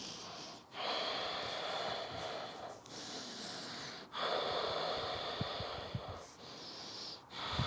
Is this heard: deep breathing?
yes